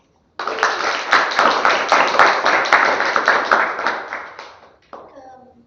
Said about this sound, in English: let us welcome all our guests with a round of applause